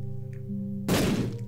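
Bomb exploding in The Binding of Isaac video game, a single sudden thudding blast that cuts in over a steady game tone and fades quickly.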